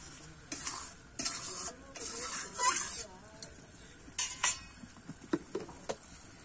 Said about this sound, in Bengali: দেখো আমার কিন্তু ঝোলটা ফুটে উঠেছে